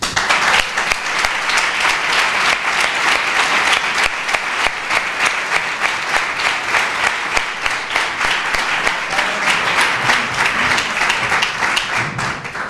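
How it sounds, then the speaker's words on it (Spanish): An audience at a book presentation in a cultural centre breaks into loud, sustained applause, a thick wash of many clapping hands with sharp individual claps on top, steady and close throughout. "vamos a darle un fuerte aplauso"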